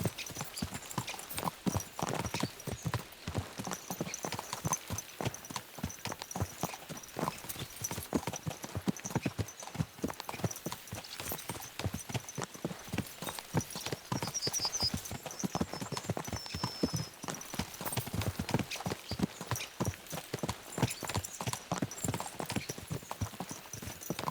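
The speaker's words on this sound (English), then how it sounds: "Let's really spur these horses on, eh?" Horses' hooves clip-clop steadily in Kingdom Come: Deliverance II, a rapid continuous galloping rhythm close by, with faint background sounds and a brief whinny-like tone.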